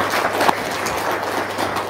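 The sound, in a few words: applause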